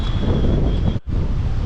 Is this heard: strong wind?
yes